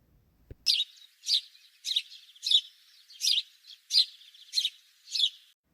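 House sparrow chirping: eight short, bright chirps come in an even rhythm, clear and close against silence.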